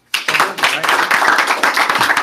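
A seminar audience claps loudly together, a dense burst of many hands that starts sharply and holds steady for about two seconds, close and full.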